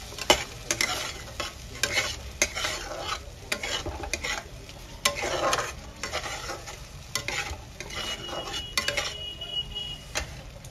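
Spices with garam masala are sautéed in a pan and stirred repeatedly, with frequent scraping utensil strokes and light clinks over a soft sizzle.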